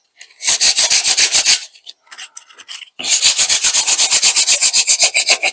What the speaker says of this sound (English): I'm applying very little pressure. I'm letting the sandpaper do the work.